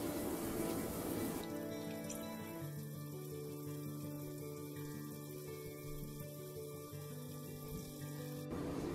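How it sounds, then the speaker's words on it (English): Water is poured into paneer gravy cooking in a pan, a soft splashing trickle that runs for several seconds and then stops, close and fairly quiet. "Now I will add a little bit of water,"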